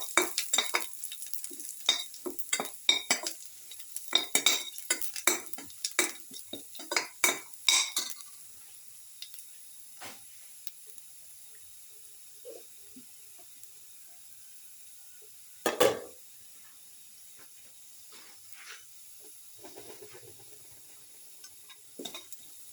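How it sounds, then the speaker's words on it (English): Garlic sautés in a pan for a fish tamarind stew, with a cluster of sharp utensil scrapes and clinks against the pan at the start, then quieter sizzling broken by an occasional stir. "Saute the garlic."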